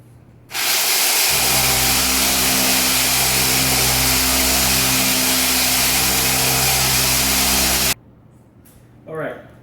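A power sander sanding a wooden butcher block with the grain whirs loudly and steadily for several seconds with a strong hum, then cuts off abruptly, leaving quiet room noise.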